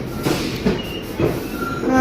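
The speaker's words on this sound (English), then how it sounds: "here's my 1 train." A New York City subway 1 train at Dyckman Street station, heard as a steady close rumble of the railcars with rhythmic clacking of the wheels and faint squealing.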